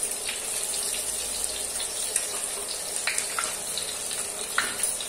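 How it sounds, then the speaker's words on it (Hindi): Flattened rice (poha) fries in hot oil in a metal strainer while a spoon stirs it, making a loud continuous hiss and crackle with scattered light scraping taps throughout. "और इसको ऐसे स्पून से हिलाते रहेंगे तो ये फूल जाएगा अच्छे से"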